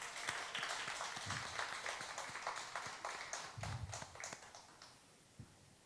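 Audience applause in a late-night Friday prayer meeting, a scattered burst of clapping that fades out over several seconds, fairly quiet and distant.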